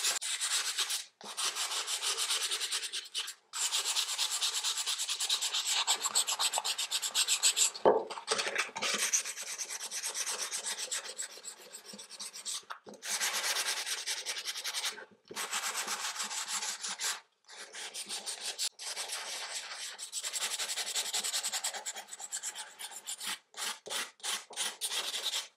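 A milk-painted wooden board is sanded by hand in long, close, raspy strokes, broken by short pauses, continuing steadily without speech.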